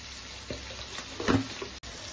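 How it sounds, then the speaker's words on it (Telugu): Potato and onion pieces fry in oil in a pan for a brinjal, potato and tomato curry, giving a faint, short sizzle with a couple of soft stirring clicks close by. "ఆలుగడ్డ కూడా ఆయిల్లోనే ఫ్రై కావాలి"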